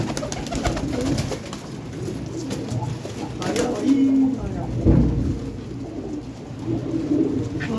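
Flying pigeons sold at a Punjabi pigeon market, cooing in low repeated throaty calls through steady crowd murmur, with a stronger coo standing out near the middle.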